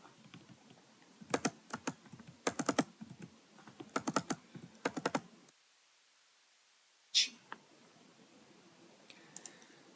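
Bursts of typing on a computer keyboard while filling in an Italian student residence permit form, with quick rhythmic clusters of key clicks up close, a silent gap, then a single louder tap and a few faint keystrokes.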